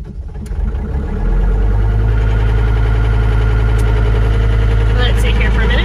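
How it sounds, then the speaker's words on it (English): An engine cranks and catches, then settles into a steady, loud idle with a deep low rumble that continues to the end. "Ready to start engine."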